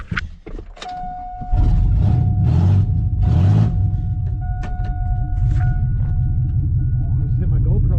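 A rough-running old Chevy truck with a bad transmission roars up from idle into a loud, sustained engine rumble as it launches, heard from inside the cab with a brief voice and interior rattles at the start.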